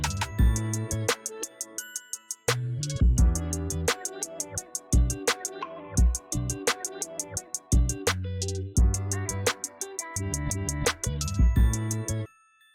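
A sampled beat made on an MPC Live 2, with punchy kicks and snares, topped by a bright, ringing bell melody that repeats over the groove.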